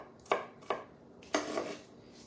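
Diced ceviche ingredients drop into a bowl in three quick, close knocks with short tails, the last one followed by a softer scrape, with nothing else heard.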